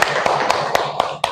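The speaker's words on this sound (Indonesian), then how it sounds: "tepuk tangan untuk kita semua" Classroom of children and teacher clapping hands in a quick steady rhythm, a sharp burst of claps close by with light murmuring underneath.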